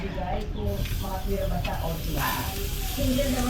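Salted Maori snapper sizzles as it grills for lunch, a steady close hiss and crackle with soft voices talking over it.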